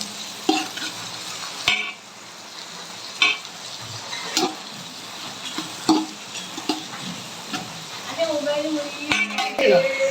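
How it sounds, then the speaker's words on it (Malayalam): Tomatoes being stirred into sizzling biryani masala in a large cooking pot, with a steady fry hiss broken by repeated scraping and clinking of a metal spoon against the vessel, close and fairly loud. "ഇതിലേക്ക് തക്കാളി ഇട്ടണം നല്ലോണം ഇളക്കി കൊടുക്കാം"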